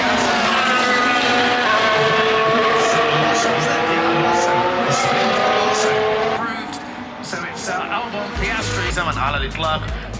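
Formula 2 race cars at a sprint race, their engines whining and rising in pitch as they pass, loud and continuous, with crowd noise and talk mixed in toward the end.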